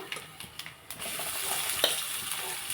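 Ingredients for lemon rice fry in a hot pan, a bright sizzle swelling under a few close scraping stirs and a small clink, with no voices.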